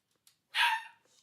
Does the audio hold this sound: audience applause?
no